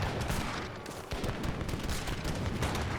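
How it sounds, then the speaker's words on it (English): Four artillery guns fire in Age of Empires 3, a dense, continuous barrage of overlapping booms and cracks filling the scene loudly from start to finish. "Four guns firing away."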